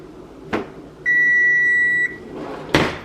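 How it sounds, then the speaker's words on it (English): A kitchen appliance, likely a microwave, gives one long steady beep lasting about a second, set between two sharp clunks like a door or cupboard opening and closing nearby. "this is fixing to start beeping on us"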